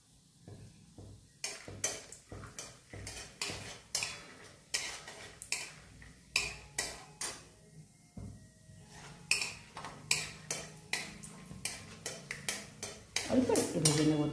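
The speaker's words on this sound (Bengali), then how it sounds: "চীনাবাদামটা একটু ভেজে নেব" Peanuts fry in hot oil while a spatula stirs and scrapes them in a pan, giving regular rhythmic clinking strokes over a faint sizzle, with a brief louder sizzle at the end.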